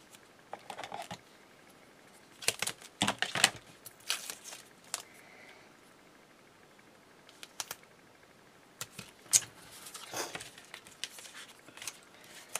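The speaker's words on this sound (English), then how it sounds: "so let's just pop some more tape down" Sticky tape pulled off a roll and pressed down while making greeting cards, heard as scattered short tearing and rasping bursts with quiet pauses between, close and fairly soft with no talking.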